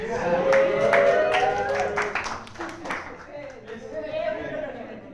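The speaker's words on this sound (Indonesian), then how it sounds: "Dan tepuk tangan untuk gua yang benar semuanya." Clapping for a live-show host rises under a voice talking over it, then fades as the speech continues.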